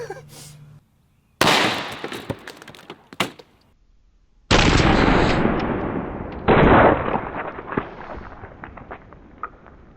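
A .50 caliber air pistol fires in several sharp, loud cracks. Each shot is followed by a ringing decay and scattered impact noises, all close by and with no talk.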